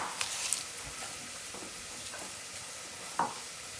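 Onions sauté gently in a pot as the base for Greek lentil soup, a soft steady sizzle broken by a few light stirring scrapes and clinks, faint and close with no talk.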